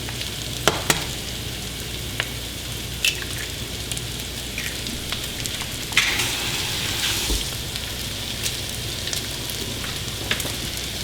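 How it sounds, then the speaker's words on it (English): Eggs sizzle and spatter as they fry and are scrambled in a hot pan beside vegetables for chicken fried rice, with a steady crackle and occasional sharp utensil taps against the pan. "I'm gonna crack and fry up a couple of eggs."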